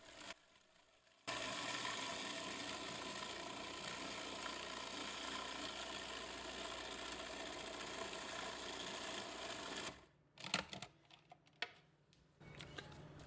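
Blender whirring through homemade ricotta thinned with whey, a loud steady motor roar after a quiet start, then stopping into scattered scraping and clattering sounds near the end.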